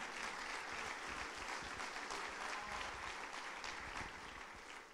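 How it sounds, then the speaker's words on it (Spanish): A church congregation at a Sunday service breaks into continuous applause, a broad even wash of many clapping hands held at steady strength and easing off slightly toward the end. "Dale un aplauso al Señor fuerte"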